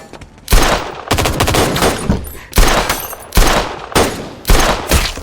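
Loud bursts of automatic gunfire in a Jack Reacher action scene, several rapid fusillades of shots separated by short pauses across the span, close and harsh with no talk over them.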